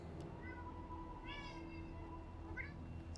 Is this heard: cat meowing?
yes